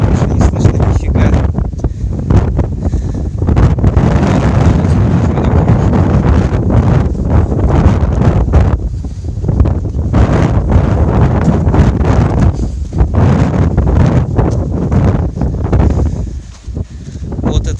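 Strong wind buffeting a microphone outdoors on Qeshm Island near Bandar Abbas, Iran: loud, continuous low rumbling roar with gusty surges and brief dips, overwhelming everything else.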